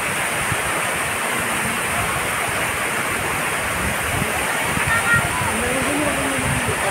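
Caunayan Falls in San Luis, Aurora: steady, broadband rushing roar of falling water filling the whole clip, loud and continuous with no clear breaks.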